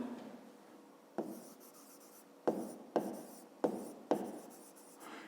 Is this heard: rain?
no